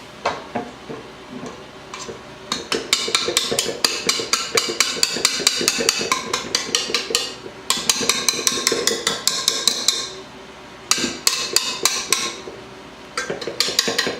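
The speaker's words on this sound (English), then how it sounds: "Tap off the attachment, getting all the frosting off." A metal mixer attachment tapped repeatedly against a bowl to knock off cream cheese frosting, sharp clinking knocks in quick irregular bursts with short pauses, close and fairly loud.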